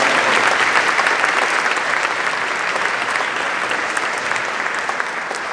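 A crowd gives steady, loud applause for a college leader, a dense wash of clapping that holds from start to finish and fades only slightly.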